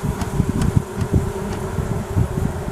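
Honeybees in a hive being smoked down into the winter cluster, a dense continuous buzzing hum close by, steady and fairly loud with no talk.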